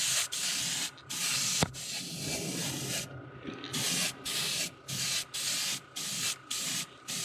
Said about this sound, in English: We're going to spray some paint.